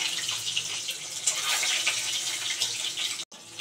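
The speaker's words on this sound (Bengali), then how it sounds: "কড়াইতে তেল তেতে গেছে, ডিমগুলো দিয়ে দেবো" Eggs dropped into hot oil in a wok, frying with a steady, dense hiss and crackle throughout, loud and close, with a brief cut near the end; no talking.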